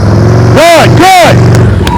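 A motorcycle in slow-speed riding practice gets two short throttle blips, each engine note rising and falling over a steady low idle, close by and loud.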